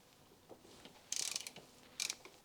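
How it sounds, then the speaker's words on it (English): Ratchet with a 14mm socket undoing the bolt that holds a bracket to the engine block on a Mk1 Mazda MX-5 Miata 1.6, with two bursts of rapid close clicking after faint handling knocks. "Then a 14mm socket on this bolt here that attaches the bracket to the block."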